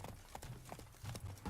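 Horse hooves clip-clop steadily and faintly in The Witcher 3: Wild Hunt on PS5, a brief galloping stretch during mounted combat with no voices.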